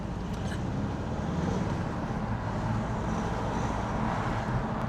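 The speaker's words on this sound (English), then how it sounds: "Let's go on the first drive and see how the car drives." A Volkswagen Eos on the road for its first drive after repairs, a steady low rumble of engine and tyre noise with wind buffeting, constant and close throughout with no talking.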